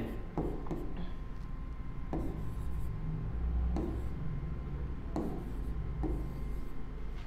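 Marker or chalk scratching across a classroom board during a reasoning lesson, steady repeated strokes and taps over about seven seconds against a constant low background hum, close and moderately loud.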